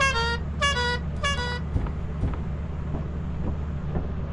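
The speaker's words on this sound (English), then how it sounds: "The air horn?" Three loud blasts of an air horn in the game Lethal Company sound in quick succession, each a short brassy honk, followed by low rumbling background and faint thuds.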